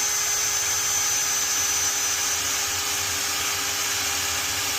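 A power drill bores a pocket hole into a 2x4 through a Harbor Freight jig, a continuous loud high-pitched whirring whine that holds steady close by, no voices.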